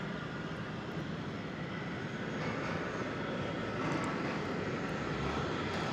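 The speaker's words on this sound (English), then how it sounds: "If I didn't know any better, I would say that's a go-around over on the east side." An airliner's engines roar steadily during a go-around at DFW Airport, a dense continuous rumble of distant jet thrust that holds level and swells slightly toward the end, with no talk.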